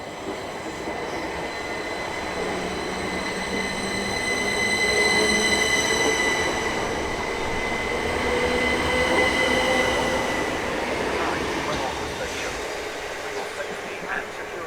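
A Southern Class 377 Electrostar electric train pulls away from Tonbridge station, its motors whining in steady rising tones over the rumble and squeal of wheels, loud and near.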